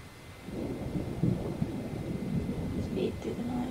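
Low, rolling thunder rumbles through a thunderstorm in The Sims video game, a steady muffled roar with faint rain hiss and a few soft clicks, moderately loud and continuous.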